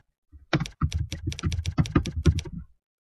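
Close, clear typing on a computer keyboard, a quick run of about twenty key clicks lasting a couple of seconds, then silence.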